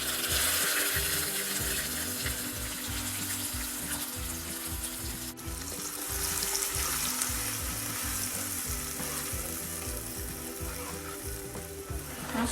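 Curry paste fries in hot mustard oil in a pan over lowered heat, a steady, loud, close sizzle that runs without a break and rises into a bright hiss, with faint stirring scrapes and no talk.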